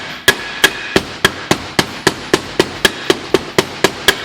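A hammer taps a seal into place on a Briggs & Stratton V-Twin Intek engine, giving a steady run of about fourteen sharp, evenly spaced metallic knocks, close and loud with no talk.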